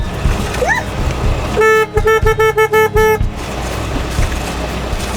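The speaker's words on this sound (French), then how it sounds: "La corne de brume, Éloi, la corne de brume!" Boat foghorn on a sailboat: a sustained harmonic horn tone bursts out in a quick series of short blasts, about eight toots in a row, loud and close, with a brief whistle-like rising tone before it.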